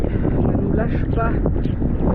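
Strong wind buffets the microphone in a low, gusty roar during a rainy gravel bike race near Bordeaux, with voices faintly heard beneath.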